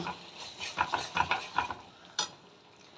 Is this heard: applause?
no